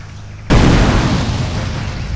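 Grenade blast in GTA San Andreas with a modded black and red weapon pack: a sudden loud boom after a quiet lead-in, followed by a long rolling rumble that decays slowly, no talk over it.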